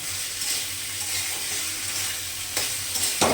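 Snake gourd (chichinga) fries in a pan with a steady, close sizzle and occasional stirring scrapes toward the end, with no talk over it.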